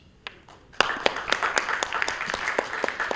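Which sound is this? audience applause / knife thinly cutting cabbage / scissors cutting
audience applause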